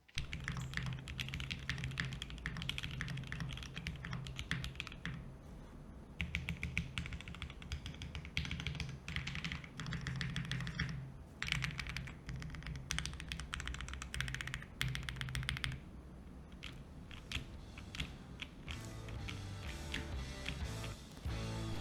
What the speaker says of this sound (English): the cutouts combined with the leaf spring gasket mount makes for a very bouncy typing